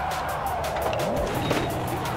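A Ford Mustang RTR in Project Cars 2 brakes hard, its steady engine roar dropping in pitch with a faint tire scrub, loud and continuous throughout.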